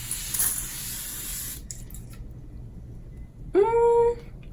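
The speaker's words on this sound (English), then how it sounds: "So I'm gonna go ahead and spray this real quick." Evian water facial spray hisses out in a short, close mist burst, followed after a pause by a brief voiced exclamation.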